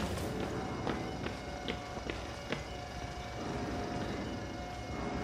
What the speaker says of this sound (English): Big, loud, heavy footsteps.